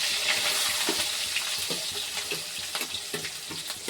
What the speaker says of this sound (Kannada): ಇದು ಈರುಳ್ಳಿ ಒಂದು ಸ್ವಲ್ಪ ಫ್ರೈ ಆಗಲಿ